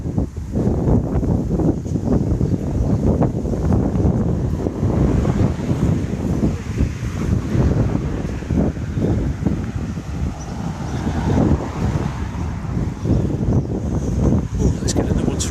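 Strong gusts of wind batter the microphone on an outdoor walk, a loud continuous roar and buffeting that swells and dips, with a person talking faintly underneath.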